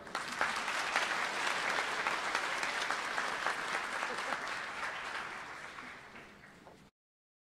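Sustained applause from a commencement audience honoring a college graduating class, a dense steady wash of many hands clapping for about seven seconds before tapering off and stopping abruptly.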